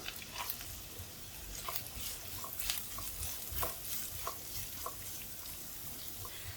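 Onions added to ginger in a pan sizzle quietly, with soft stirring scrapes and clicks recurring at irregular intervals over a steady low frying hiss.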